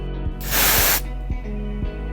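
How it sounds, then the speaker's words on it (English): A single short burst from a CryoDose V cryotherapy aerosol canister hisses loudly for about half a second during a test spray, with a low hum and faint clicks around it. "It's now time for a test spray."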